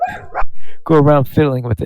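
Dogs bark and yip a few times in the background of an indoor recording while a person keeps talking over them.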